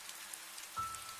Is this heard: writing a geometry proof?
no